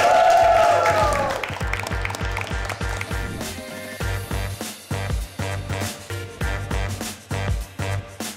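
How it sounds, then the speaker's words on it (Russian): Rhythmic clapping from a comedy show audience under steady music with a regular beat, loud and continuous through the stretch, after a brief voice at the start. "А в целом мы аплодисментами провожаем участников на гриф."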